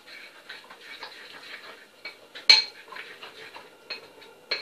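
A spoon mixes batter with a tablespoon of oil in a bowl, giving quick light clinks and scraping taps in an uneven rhythm, close up and fairly soft, with one sharper knock.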